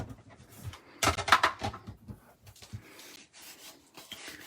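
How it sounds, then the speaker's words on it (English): Small paper pieces being pushed out of a metal cutting die by hand, heard as close, soft rubbing, scratching and light tapping in irregular bursts with no talk. "punch out those excess little pieces from the"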